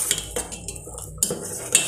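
Pongal with jaggery and cardamom stirred in a pot, a quick series of metallic spoon clinks and scrapes against the vessel, close and fairly loud.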